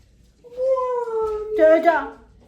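A house cat meows twice in a drawn-out, wavering call, the second cry louder and more strained, close to the microphone with faint room noise behind.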